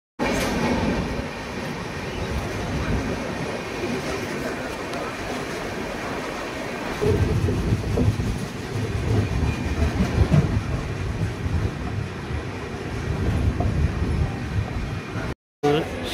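A passenger train on the Shalimar to Vizag route nears Simhachalam station, its wheels giving a steady, continuous rumble and rhythmic clatter on the rails, with a voice talking intermittently over the noise.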